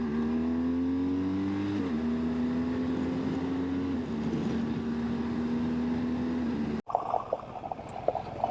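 A car rolls along a rough road in Labrador, its engine droning steadily up close with tire and road rumble underneath, before the sound cuts abruptly to a quieter, different scene near the end.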